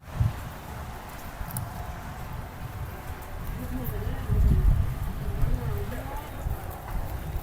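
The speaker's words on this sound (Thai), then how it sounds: "ทั้งฝนทั้งลมพี่น้องครับ" Rain falls and wind blows outdoors in a steady, moderately loud wash of noise, with a few louder low gusts and someone talking over it.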